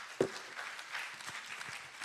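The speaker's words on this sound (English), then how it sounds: "Let's give another round of applause for Professor Wahyu." Applause from a conference audience at an international health information science event, a brief spell of scattered, fairly faint clapping that starts with one sharp clap and trails off.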